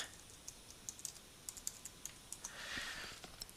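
Keys clacking on a computer keyboard as a password is typed to log in, a run of light irregular taps with a short pause, close and fairly quiet, no talking.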